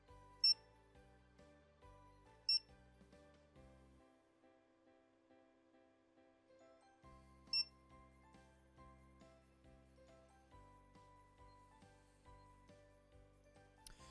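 A barcode scanner gives a few short, clipped beeps spaced several seconds apart while items are scanned, the sharp tones standing out against a low, droning electronic hum.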